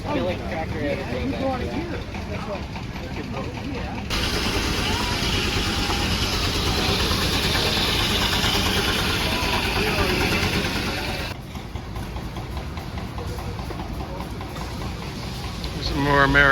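An antique milling tractor engine at a gas engine and tractor show, a steady running rumble with a burst of broadband noise in the middle, heard outdoors under nearby talk.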